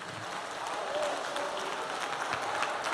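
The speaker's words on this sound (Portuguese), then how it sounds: "Aplauda o Senhor Jesus." Applause from a church congregation during a worship service fills the room, a steady wash of many hands clapping at moderate loudness, with voices mixed into the background throughout.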